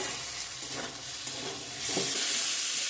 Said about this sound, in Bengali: মশলার সঙ্গে ভালো করে সিমের বীজগুলো কষিয়ে নিচ্ছি